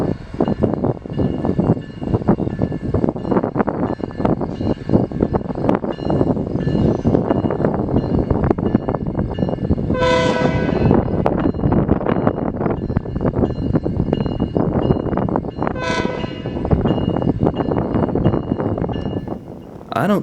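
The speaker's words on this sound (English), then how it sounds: "Next up was a coal drag entering the Peoria subdivision" Coal train locomotives descend a steep grade on the Peoria subdivision at Galesburg, Illinois, with a loud, steady rumble and rolling rail noise throughout, broken by two short horn-like tonal blasts about six seconds apart.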